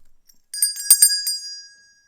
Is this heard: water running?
no